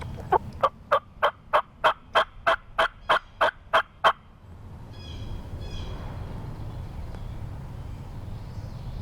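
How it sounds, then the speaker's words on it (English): Wild turkeys near a creek among pines gobble in a quick run of about a dozen evenly spaced bursts, followed by a faint, distant gobble and low outdoor rumble. "but David got these birds to gobble."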